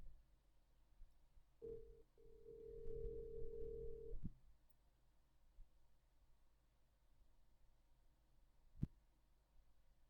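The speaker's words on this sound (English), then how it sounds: "I will call him again." A telephone call rings out as a single steady ringback tone lasting about two and a half seconds, fairly faint against a quiet background and followed by a brief click.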